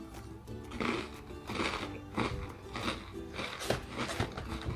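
Crisp bites and crunching on a fried chili snack in tom yum flavor, repeated in a steady chewing rhythm, close up and alone.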